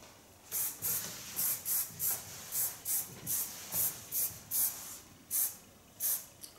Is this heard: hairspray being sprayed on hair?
yes